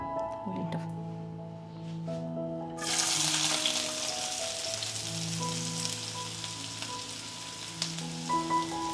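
Chopped onions, including small red shallots, drop into hot oil for a mango curry and set off a loud, steady sizzle that starts abruptly and runs on, with faint background tones throughout.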